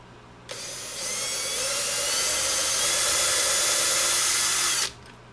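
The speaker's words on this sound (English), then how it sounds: "Just keep your drill straight up." A power drill whines steadily for about four seconds, driving a 5/64 bit to make screw holes in a Squier Jazz Bass body during a battery box and Bartolini preamp install, spinning up sharply, holding, then cutting off.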